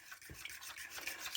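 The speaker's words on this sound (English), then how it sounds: "Give that a bit of a whisk." Milk and eggs are whisked in a bowl for a spaghetti egg bake, with parsley and spring onions nearby. The scraping and swishing are close and steady, with no voices.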